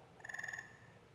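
A gray tree frog's call plays from a sound card as a faint, fast pulsing trill lasting under half a second, quiet and alone with no voices.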